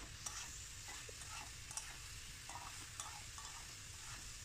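A spoon stirs a thick, nearly dry curry of loitta dried fish and Malabar spinach in a pan, with soft scraping strokes over a steady low sizzle, close and alone without talk.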